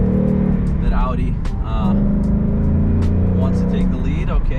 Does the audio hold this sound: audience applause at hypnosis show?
no